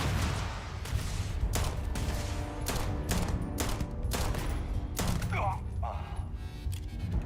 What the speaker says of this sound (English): Curious calibrated Old Earth pistol.